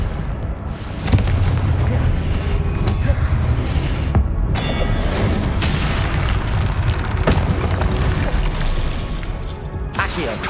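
Fiery Confringo spell blasts in Hogwarts Legacy, loud booming explosions with rumbling, crackling debris that fill the scene, amid other combat spell effects and a voice shouting spell names.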